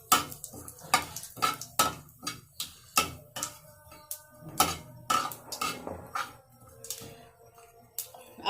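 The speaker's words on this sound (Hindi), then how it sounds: "हमने अब साबित मिर्ची भी डाल दी है, बस जरा सा ना इसको फ्राई कर लेंगे हल्का हल्का सा।" Whole chilies fry lightly in oil in a pan, a faint sizzle beneath sharp, rhythmic metal clinks and scrapes of a spoon stirring against the pan.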